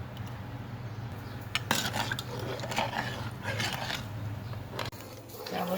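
Milk is spooned into tea being made for three cups, with light clinks and scrapes of a spoon against a pot or cup over a low steady background hum.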